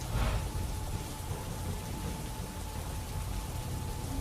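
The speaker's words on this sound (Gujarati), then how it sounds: "અંકલેશ્વર જીઆઈડીસીના વિવિધ વિસ્તારોમાં વરસાદ વરસ્યો" Steady rain falls across an industrial area of Ankleshwar GIDC, a continuous even hiss with no voices.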